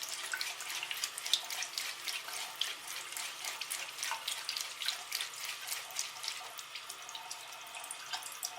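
Water runs from a tap with splashing and irregular dripping patter as a scratched CD is rinsed under it, steady and fairly close, with no voices.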